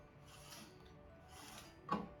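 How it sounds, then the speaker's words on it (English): A T4000 series 4-inch industrial RFID printer's print head is opened and its label stock rewound, giving faint mechanical whirring and ratcheting that ends in a soft click. "We can just open up the printer, open the print head, and rewind the label stock."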